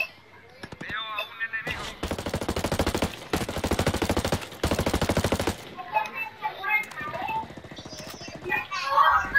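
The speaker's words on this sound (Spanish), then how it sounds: "Oigo disparos." Bursts of automatic gunfire from the Ghost Recon Breakpoint video game, three long rapid volleys loud in the middle, with game chatter and effects before and after.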